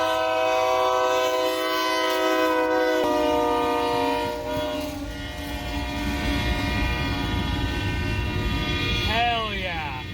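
Train passing close by in the Mojave Desert, its horn blaring a loud sustained chord over the heavy rumble and rattle of the cars, with the horn bending as it goes by.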